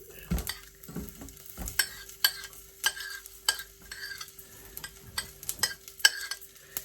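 Mustard seeds pop in hot oil in a pan, then onions go in, with soft sizzling under a series of sharp, scattered crackles and a few stirring scrapes, fairly close and moderately quiet, no talking.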